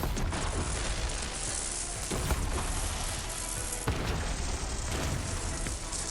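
Grenade launcher blasts in the shooter game Borderlands 3, a dense, continuous barrage of booming explosions and crackling bursts with several sharper hits standing out, loud and close, no talking.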